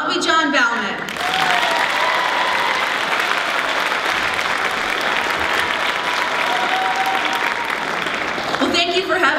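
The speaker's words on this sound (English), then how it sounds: "And how about a big round of applause for Bobby John Ballman?" Sustained applause from a large crowd at a talent show, loud and steady for several seconds, with a voice briefly heard at the start and end.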